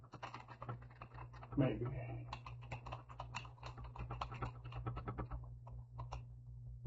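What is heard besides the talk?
typing on a computer keyboard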